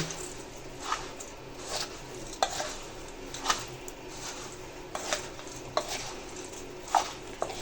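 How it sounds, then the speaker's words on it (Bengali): Puffed rice being mixed by hand with mango pickle oil and spices for jhal muri, a steady, close rustling and stirring with soft repeated scrapes and light pattering crunches, continuous and moderately quiet. "তেল আর মশলা দিয়ে মিক্স করে নিব"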